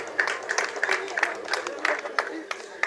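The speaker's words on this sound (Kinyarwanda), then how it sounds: "Amashyi menshi kuri tubura." Crowd applause at a district award ceremony in Kirehe, Rwanda, honouring partner organisations, heard as a steady run of many close hands clapping with rhythmic sharp peaks and no speech over it.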